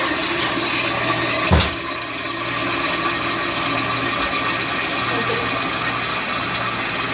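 Steady running water pours and splashes into a pot for making white willow bark infusion, a continuous broadband rush with a brief thump partway through.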